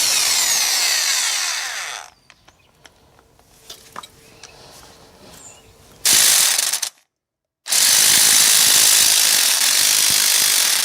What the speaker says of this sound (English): so I'm going to use a impact socket to remove them.